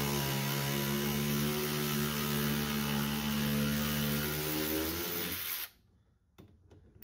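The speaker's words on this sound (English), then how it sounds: "Gonna put it on there and get my little ratchet" A small ratchet, apparently powered, tightens hardware on a MazdaSpeed3 rear sway bar fitted to a 2005 Ford Focus ST. It gives a loud, steady motor whir for about five seconds, then stops abruptly, leaving a couple of faint clicks.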